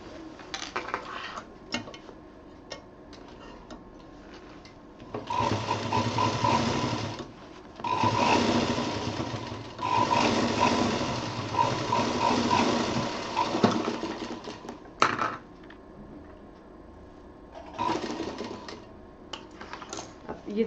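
A sewing machine stitches cloth for a homemade picnic bag, running in several loud bursts of rapid mechanical whirring separated by short pauses, with a voice speaking during the quieter gaps.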